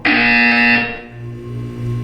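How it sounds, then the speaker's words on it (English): In Portal 2, a loud electronic buzzer sounds once, a harsh, sustained tone lasting under a second before cutting off, followed by a lower, quieter droning hum. "You will hear a buzzer."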